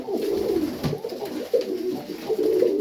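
Junior Serbian highflyer pigeons coo inside a loft, with several soft, throaty rolling coos following one another close by over a low background hum.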